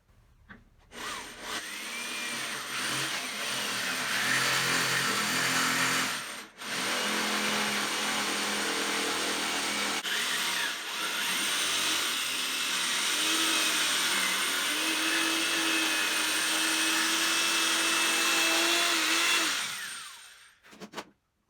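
A power saw cuts a template out of a clamped piece of wood for a 5-inch bluegill swimbait, running loud and steady for about twenty seconds, with one short pause and a brief dip midway before it winds down.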